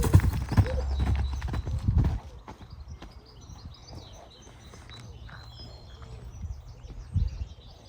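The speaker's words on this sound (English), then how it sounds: "Irish sports horse. No crosses in there." Hooves of an Irish sports horse clip-clopping loud and close for a couple of seconds, then quieter steps with birds chirping in the background and a brief louder stamp near the end.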